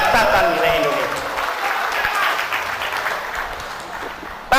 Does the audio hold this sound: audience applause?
yes